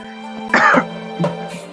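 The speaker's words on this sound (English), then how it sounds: "I might be coughing a little bit." A single sharp cough or throat clearing bursts out near the mic, followed by a smaller second one, over a faint steady background hum.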